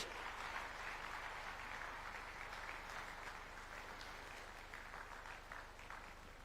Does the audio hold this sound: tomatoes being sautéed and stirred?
no